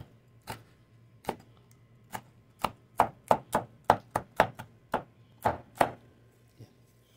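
Long green chili peppers sliced with a knife on a board while making ginataang tilapia: about fifteen crisp, close chops in an uneven rhythm that bunches up in the middle, with no talk.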